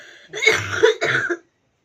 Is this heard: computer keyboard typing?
no